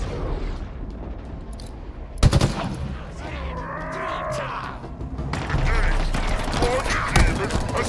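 Halo Infinite gunfire crackles in sharp bursts and rapid shots, close and loud, mixed with game effects and a brief voice.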